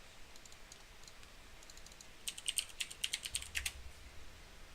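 Quick bursts of computer keyboard typing while entering a name for a StarCraft 2 micro trainer, faint sparse taps at first, then a denser run of crisp clicks, no one speaking.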